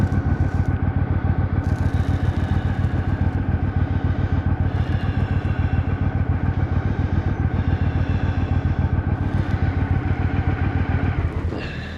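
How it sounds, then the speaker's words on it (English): A motorcycle cruises at steady speed, its engine pulsing in a loud, even drone close by, with some clatter and wind rush, before the sound drops away at the very end. "Bike's still going really well."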